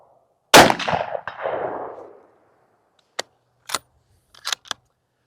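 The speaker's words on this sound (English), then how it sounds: "I'm just going to shoot it freehand because it's more fun." A bolt-action rifle fitted with a thermal optic fires one loud, sharp shot up close, its report echoing and decaying over about a second, followed by a faint metallic knock and several short mechanical clicks and clacks.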